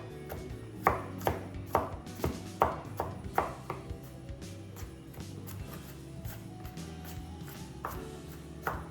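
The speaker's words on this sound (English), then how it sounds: "chopping up my garlic." A knife chops garlic on a cutting board in quick, light taps, a brisk run of strikes early on slowing to scattered ones, with a faint hum underneath.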